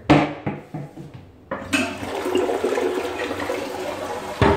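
A household toilet flushes in an apartment bathroom after a few sharp clunks, its loud rushing water swelling and carrying on steadily until a final knock.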